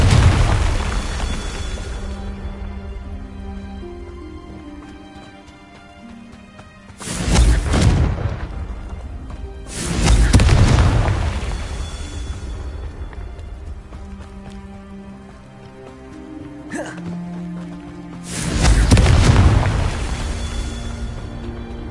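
Confringo fire spell explosions in the Hogwarts Legacy video game, several loud booming blasts spaced a few seconds apart over a sustained musical game soundtrack.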